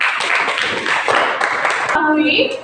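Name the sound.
classroom students clapping hands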